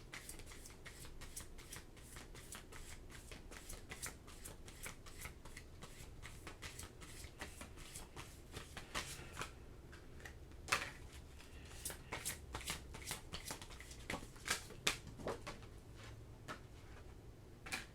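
A deck of tarot cards is shuffled over and over for a long stretch, making a steady, close patter of riffling card edges, with no talking.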